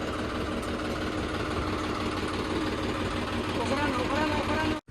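A generator engine runs steadily on a farm in Punjab, a continuous mid-pitched mechanical drone with a faint knocking rumble, loud and close, cutting off abruptly at the very end.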